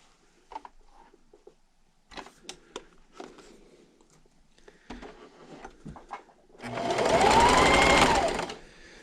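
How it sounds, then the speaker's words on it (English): A sewing machine runs in a loud, steady burst of rapid stitching on a napkin seam for about two seconds, after some quiet handling and tapping sounds. "I'll see you at the sewing machine."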